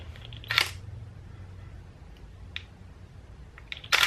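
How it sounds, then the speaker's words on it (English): A Canon 70D with a Sigma 17-50mm f/2.8 lens gives short, brisk whirring bursts from its autofocus motor, a few close mechanical zips spaced over a few seconds against a low hum, with no talk. "The autofocus on this camera is noisy as hell."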